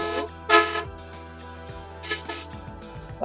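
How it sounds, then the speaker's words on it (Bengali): A bus horn honks in short blasts, one strong near the start and two more later, over steady engine hum and road noise inside a long-distance bus on a Kolkata to Digha trip. "বাসের হর্নের জন্য কথা শোনা যাবে।"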